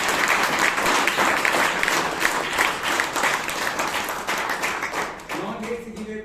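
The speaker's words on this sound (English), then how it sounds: "Now you can welcome by giving applause." A Toastmasters club meeting audience in Bangalore applauds loudly and steadily, the clapping thinning out toward the end as a voice begins to speak.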